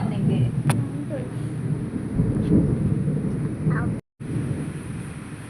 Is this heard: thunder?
yes